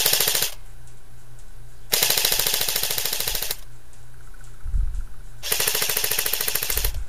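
Airsoft gun with a SEMA 7mm gearbox and CA M100 spring fires three loud, rapid full-auto bursts, each about one and a half seconds long, with a low motor whine between the strings.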